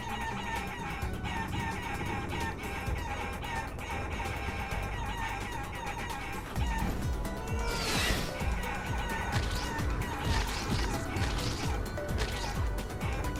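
Chicken clucks and squawks from a player in chicken form in the video game Guacamelee, mixed into busy game music with sharp thwacks and a crash partway through.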